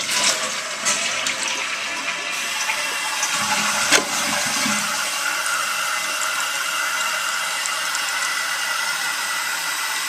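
A Mansfield toilet with a leaky flush valve seal flushes and its tank refills. Water rushes and hisses steadily up close, with a brief clunk partway through and no talking.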